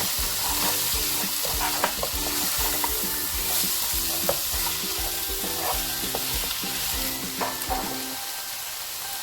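Beef stew with spinach and spring onion is stirred in a hot pan. A steady sizzle runs throughout, with repeated scraping stirs close by and no voices.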